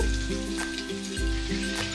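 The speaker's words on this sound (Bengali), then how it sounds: "পটলগুলো আমি ভালো করে এবার লাল করে ভেজে নেব" Pointed gourds fry in oil in a large frying pan, giving a steady close sizzle with a few faint stirring scrapes and no talk.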